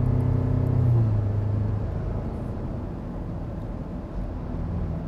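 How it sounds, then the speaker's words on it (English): Land Rover Defender with a small engine towing a trailer uphill on a highway while overtaking a truck, giving a steady, loud low engine drone with a strained rumble that holds even throughout, no voices. "That is impressive for such a small engine. It really does pull quite well."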